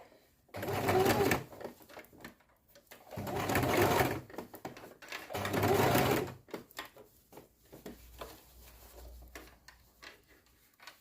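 A sewing machine stitches fabric petals in three steady bursts of rapid mechanical chatter, each a few seconds long, separated by quieter handling noises, close up and fairly soft.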